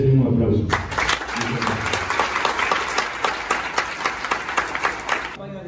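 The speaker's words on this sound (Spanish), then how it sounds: "creo que se merecen un aplauso" University audience breaks into applause after a speaker starts talking, steady clapping that continues for several seconds before fading out.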